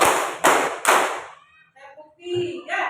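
Schoolchildren in an elementary classroom clap together in a counted clap game, three sharp group claps in steady rhythm, then voices speaking afterward.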